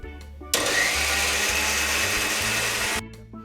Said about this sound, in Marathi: मी आता छान बारीक वाटून घेणार आहे